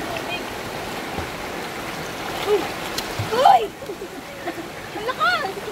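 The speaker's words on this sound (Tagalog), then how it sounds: "Tapos lumaki yung tubig." Rushing river water swelling during a sudden flood, a steady churning wash with occasional splashes, heard under excited shouting voices.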